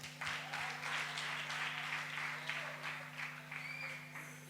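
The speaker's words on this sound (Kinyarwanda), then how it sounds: "Mufashe tumukomera amashyi." An audience at a live theater show claps, a soft steady patter of many hands heard from a distance over a low electrical hum.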